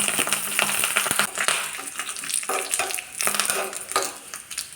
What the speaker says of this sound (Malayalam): കടുക് പൊട്ടി ഇതിലേക്ക് 1/2 ടീസ്പൂൺ ഉലുവ.